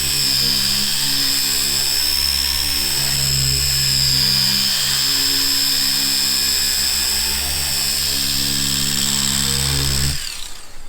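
A Rupes orbital polisher pad works on car paint with a continuous high whine and steady low motor drone for about ten seconds before winding down at the end.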